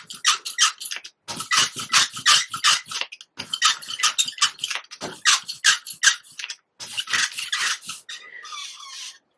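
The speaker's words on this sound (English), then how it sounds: "So aside from the squeak in my brayer," Rapid, rasping squeaks from an ink brayer roller being rolled back and forth while printmaking, coming in repeated bursts with short pauses, close and fairly loud.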